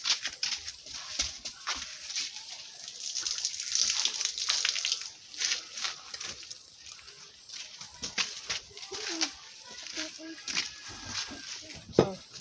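Rice being washed by hand in a pot of water, with a village kitchen setting, produces irregular sloshing, splashing and dripping bursts, fairly close and moderately loud, with brief pauses between handfuls.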